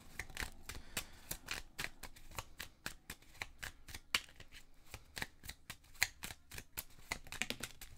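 Tarot oracle cards are shuffled by hand, giving a rapid, continuous run of crisp, close papery snaps and flicks for several seconds with no talking.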